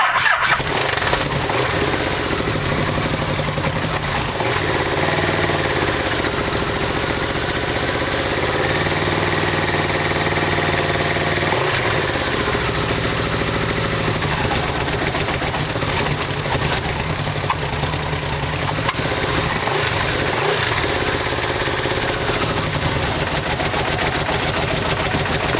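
A Yamaha VMAX motorcycle engine turns over and catches, then settles into a steady, rumbling idle that runs continuously and loud throughout, with a possible exhaust leak.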